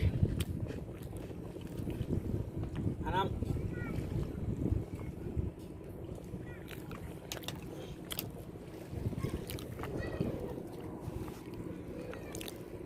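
Passenger launch boat moving on a river at a ghat where picnic crowds arrive, a steady low engine and water rumble with wind buffeting the microphone and voices talking nearby throughout.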